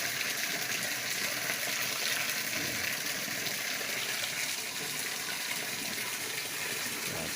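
Water pumped up from a river gushes in a steady, loud, broadband rush that holds constant without pause, with no voices over it.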